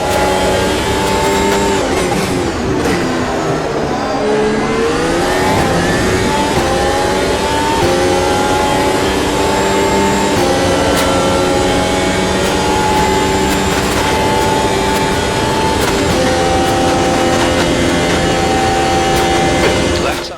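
Race car engines roar continuously through a lap at Interlagos in a racing video game, loud and close, with a sustained high whine that rises and falls through gear shifts and corners.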